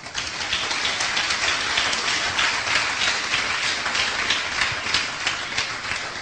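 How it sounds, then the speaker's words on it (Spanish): A church congregation applauds in praise, a dense, steady wash of many hands clapping that fills the whole stretch at full strength with no voices breaking through. "Den un aplauso al Señor"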